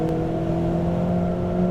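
A Ferrari 488 GTB engine drones steadily under throttle on a track, a loud, close, sustained mechanical tone with no voices over it.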